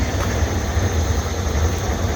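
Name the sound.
machinery cutting through rock to lay internet line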